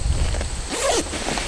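A zipper on the zip-up cover of a Pack Mule tool roll vehicle go bag is pulled in one quick, close stroke with a rising rasp, alone and fairly loud.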